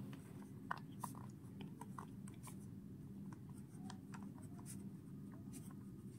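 Pen scratching across paper while working a maths problem, a steady soft scribbling with brief strokes and pauses, quiet and close with no talk.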